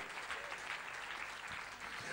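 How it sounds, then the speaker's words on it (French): A church congregation claps together in steady, dense applause, the sound filling the space evenly at a moderate distance for the whole moment. "Applaudissez le Seigneur"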